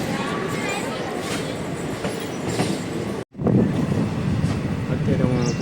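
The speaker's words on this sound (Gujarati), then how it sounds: "ધોરાજીથી પોરબંદર જે નવી ટ્રેન આવે ને એ આવી ગઈ છે" A new Dhoraji to Porbandar passenger train arriving, loud continuous rumble and clatter of carriages and wheels rolling close by, briefly cut off before the heavy rolling noise resumes with faint squeals.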